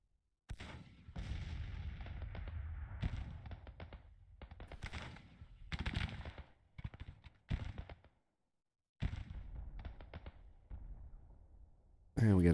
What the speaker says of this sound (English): They're firing into the detachment.